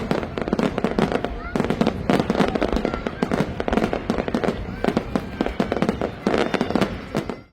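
New Year fireworks at the Sheikh Zayed Festival booming and crackling continuously in a dense barrage of rapid bursts, loud throughout, with a voice faintly audible underneath.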